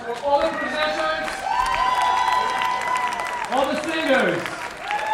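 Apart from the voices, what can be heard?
round of applause for the presenters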